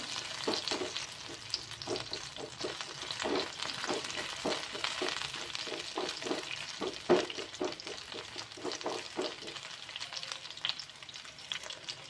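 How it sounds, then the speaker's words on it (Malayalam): Onions, tamarind and curry leaves fry in a pan for a sweet jaggery chutney, a steady close sizzle broken by many short scraping knocks of a spoon being stirred through, with no talking. "എല്ലാം കൂടെ ഒന്നും കൂടെ നന്നായിട്ട് ഇളക്കി കൊടുക്കുക."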